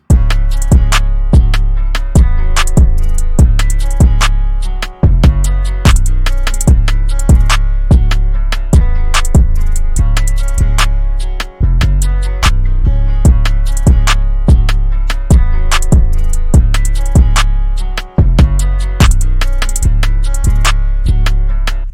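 A looping guitar-driven beat plays a repeating chord progression, with steady rhythmic plucked notes and a deep low end, loud and without voices.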